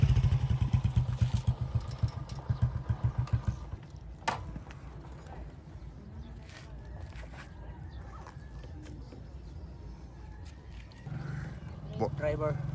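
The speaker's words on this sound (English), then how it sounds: "on his motorbike here. Very nice motorbike, by the way. Nice and smooth." A motorcycle engine chugs in a fast, regular putter at close range, then drops to a quieter, smooth idle hum before revving up again; a voice is heard. Rural road in North Bohol, Philippines.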